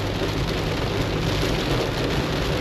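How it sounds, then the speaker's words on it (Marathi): Heavy rain with big drops drums on a car while it drives, a dense, loud, continuous roar of impacts layered over low road and engine rumble. "आणि हा पाऊस पण बघा किती जोरात आहे आणि टिपके बघा किती मोठे आहेत."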